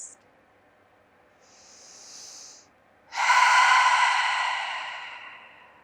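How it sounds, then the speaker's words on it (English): A deep breath taken during a guided relaxation session: a short soft inhale, a pause, then a long, louder, airy exhale that slowly fades, close to the microphone with no speech. "take a big breath"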